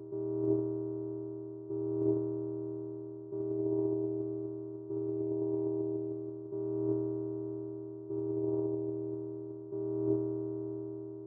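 A synthesized tone effect from the SoundMorph Dust plugin sweeps left to right, heard as seven steady, evenly spaced pulses of a sustained harmonic hum, each with a soft attack, moderately loud and alone.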